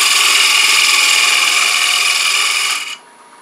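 A wood-turning scraper cuts along the rim of a spinning bowl on a lathe, shaping a ring bowl or acorn box display dish. The harsh, steady, loud scraping runs for about three seconds, then stops, leaving a softer lathe hum.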